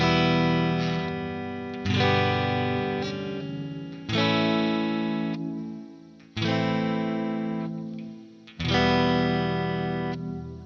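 Strandberg Boden electric guitar on its single-coil fourth pickup position with the tone knob at maximum, heard through an amp chain: five strummed chords ring out loud, each decaying before the next, with a processed, effected shimmer.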